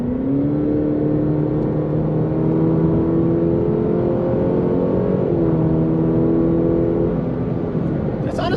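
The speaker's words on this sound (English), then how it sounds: "We're gonna merge, give it some power, see what it does." A 2020 Cadillac CT5 luxury sedan accelerates hard while merging onto a highway from about 60 mph, its engine a steady rising drone heard from inside the cabin, with road noise underneath.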